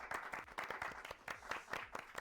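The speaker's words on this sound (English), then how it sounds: "we got another round of applause" A convention crowd at Cubedcon applauds on day three, a fairly faint, uneven patter of clapping with pulsing bursts throughout.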